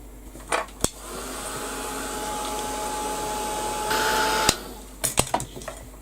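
A heat tool runs steadily to dry paint on a paper craft piece, a loud blowing whine that holds for several seconds. Sharp clicks and handling knocks come before and after it, and nobody speaks.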